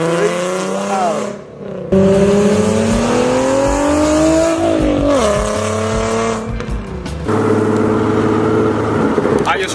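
Nissan car with a cheap DIY modified exhaust, crazy loud, driving with the windows down: a close, raspy engine drone rising and falling through revs, with a brief dip and sharp throttle surges.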